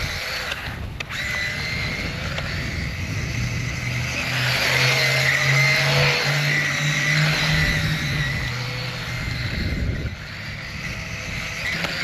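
An MJX Hyper Go 14301 RC car on a 3S battery whines and revs as it drives, with the motor pitch rising and falling over several seconds before easing off, fairly close and loud.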